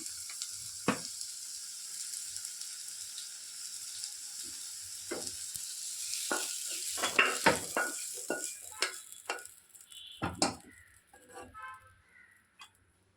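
Frying in a pan during mango ginger pickle preparation, a steady hiss with intermittent louder crackles and stirring scrapes, fairly close, no talking.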